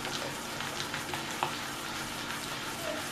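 Orange polvorón dough being beaten by hand until creamy, a continuous soft scraping and churning texture with faint irregular taps, close and steady with no talking.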